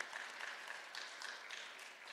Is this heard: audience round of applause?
yes